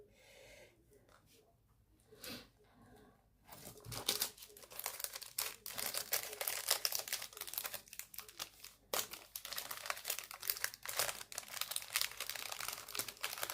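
Paper crinkles softly, then a backing tab is peeled from adhesive card stock and the sheet is pressed down, giving a run of crisp rustling and tearing sounds up close at low volume.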